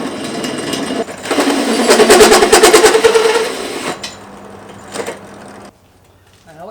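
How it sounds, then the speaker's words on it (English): A sharp 3/4 inch drill bores into mild steel at low revs without a pilot hole, a loud grinding, chattering buzz that swells for a couple of seconds, then drops off, with a brief knock after. "This is mild steel, it's a sharp 3/4 inch drill. It should be okay at these low revs."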